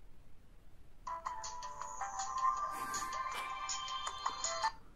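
A BM10 mini mobile phone plays its melodic startup jingle after being switched on, a bright tuneful chime sequence lasting about four seconds, clear and close with no talking.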